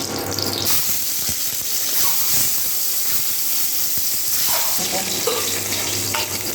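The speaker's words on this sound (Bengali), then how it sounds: "ডিমটাকে ভালো করে ভেজে নেবো।" Boiled eggs frying in oil produce a loud, continuous close sizzle with crackles and spits, broken by brief scrapes and knocks of a spatula as they are turned.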